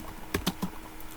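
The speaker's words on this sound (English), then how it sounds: "now if I continue typing here again" Keys on a computer keyboard struck a few times in quick succession, close and fairly quiet, with no voices.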